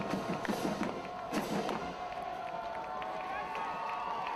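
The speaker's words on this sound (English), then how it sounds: "Crowd making some noise." Crowd at a 2022 high school football game between Riverview and Lehigh making noise in the stands, a loud roar with a few sharp thumps early on that settles into a steady, busy murmur.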